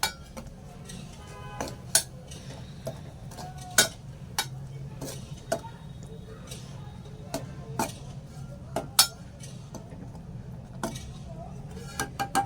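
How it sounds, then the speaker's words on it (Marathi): A spoon stirs kokum into a spicy Malvani-style mackerel curry in a pot, giving repeated sharp metallic clinks and scrapes at an uneven rhythm over a low background hum, close and fairly loud. "कोकम आताच घालायची आहे ती एक ढवळायचं आहे चांगलं"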